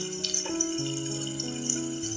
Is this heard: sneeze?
no